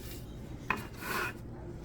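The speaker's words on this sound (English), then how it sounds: "Let me get my scraper." A scraper drags across a cutting board in a home kitchen, a short faint rasp followed by a slightly longer scraping stroke, quiet and close with no talk.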